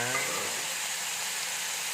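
Food stir-frying in a hot pan gives a steady, loud, close sizzle with a constant hiss that never lets up.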